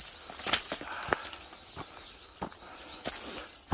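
Mountain birds chirping on a freezing winter morning along a hillside path, scattered brief high calls and chirps at intervals, fairly distant, over quiet outdoor background.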